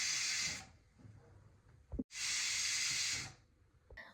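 A pressure cooker on a medium flame vents steam in two loud, sustained hissing bursts, separated by a quieter pause with faint kitchen sounds.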